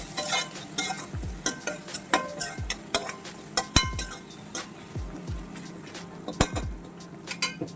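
Red ponnanganni greens stir-fried in a pan with salt and turmeric, stirred briskly with a metal spoon that clinks and scrapes in a quick irregular rhythm over a soft sizzle, close by.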